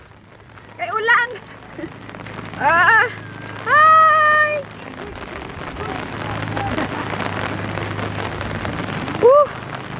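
Steady rain hisses throughout in Samal while several voices call out and chatter over it in short bursts.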